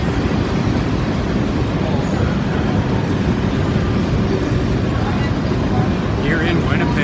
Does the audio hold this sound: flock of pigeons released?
no